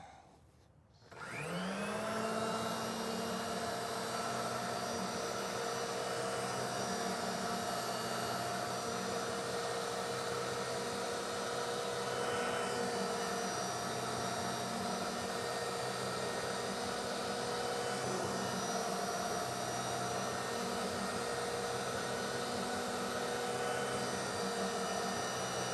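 A pipe threading machine cuts through steel pipe in a pipefitting shop, a steady loud motorized whine and grinding drone that starts abruptly after a brief quiet moment and runs unbroken to the end, with no talking.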